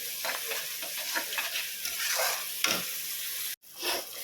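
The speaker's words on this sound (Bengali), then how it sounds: "তো মশলাটা ভালো করে আগে একটু কষিয়ে নিই।" Masala spice paste with a little tomato sauce sizzles and fries in a pan while being stirred, a steady close hiss with scraping strokes and a brief cut near the end.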